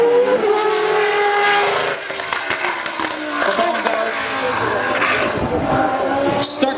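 A classic Formula 1 race car at a Dutch airfield demo gala revs and accelerates with a loud, high engine wail that shifts pitch, while someone talks over it.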